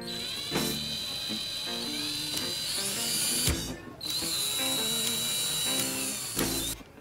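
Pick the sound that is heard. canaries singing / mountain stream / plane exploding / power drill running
power drill running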